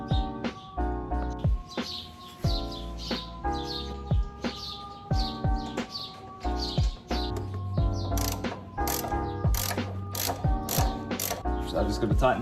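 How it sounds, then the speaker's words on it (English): A hand ratchet clicks rapidly and continuously in repeated bursts as it tightens the top strut tower bolts during a coilover install on a Toyota Soarer, loud and close with a steady mechanical rhythm. "Gonna tighten up those top strut tower bolts now."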